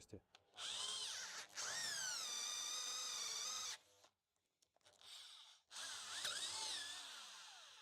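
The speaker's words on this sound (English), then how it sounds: "Drill 10 millimeters into the same hole." Close, loud drilling in long bursts: a whining hammer drill with a 10 mm bit bites and strains into steel, stops for a short gap, then starts again.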